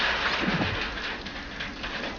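Steady rain hisses down, a dense even wash of falling water with no voices.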